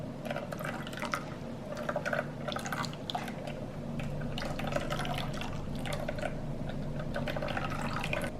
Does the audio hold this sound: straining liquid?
yes